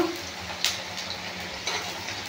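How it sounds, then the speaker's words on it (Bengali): Onions fried red in a pan for a Bangladeshi chicken curry keep up a constant crackling sizzle, with a couple of brief utensil clinks against the pan. "তোমার পেঁয়াজটা লাল করে ভাজা হয়ে গেছে।"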